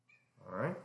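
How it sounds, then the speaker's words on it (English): A house cat meows once somewhere in the background, a short rising then falling cry that follows a brief spoken word. "I'm sure you can hear it meowing in the background"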